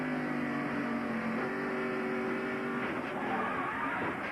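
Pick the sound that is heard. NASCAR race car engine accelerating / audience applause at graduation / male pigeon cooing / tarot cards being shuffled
NASCAR race car engine accelerating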